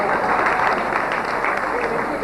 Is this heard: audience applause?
yes